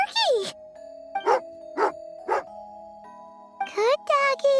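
A dog in the video game Genshin Impact gives four or five short, bright bark-like yelps at irregular intervals, close and clear over a steady, faint tonal hum.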